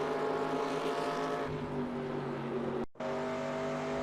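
A NASCAR stock car engine in NASCAR Racing 2002 drones at high speed around North Carolina Speedway, a steady loud buzzing whine that shifts pitch midway and drops out for a split second before resuming.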